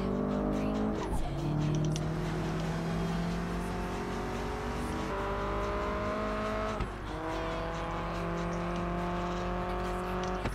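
Lancia Delta Integrale engine in the Project Gotham Racing 4 racing game, revving up through gears with rising whines, shift drops and brief tire squeal, steady and loud throughout.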